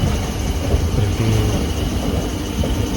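A special passenger train runs from Vijayawada to Guntur with a loud, steady rumble of wheels on track, heard from inside the carriage, with a faint wheel squeal partway through.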